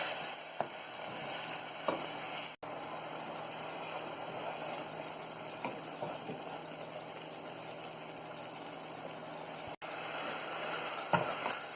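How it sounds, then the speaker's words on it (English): A ginger, garlic and green chili mixture sautéing in a pan gives a steady, soft sizzle throughout, with a few brief clicks and stirring knocks along the way and no talking. "we'll add the ginger, garlic, green chili mixture. And saute it till the raw smell goes away."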